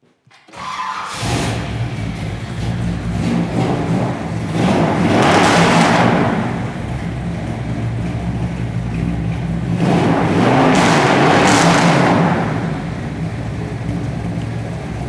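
A 1962 Chevy Impala restomod's V8 runs loud and close on a snowy day, rumbling steadily with two big revving surges that swell and fall back to idle.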